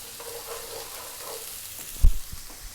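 Onion and garlic fry in fish-flavored oil in a pan, giving a steady, loud sizzle, with one sharp clank of a utensil against the pan near the end.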